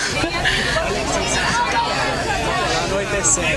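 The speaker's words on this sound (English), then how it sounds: "The crowd's getting really excited too." An excited outdoor crowd awaiting a total solar eclipse keeps up a dense babble of overlapping voices and chatter, loud and continuous throughout.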